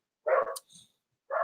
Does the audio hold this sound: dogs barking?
yes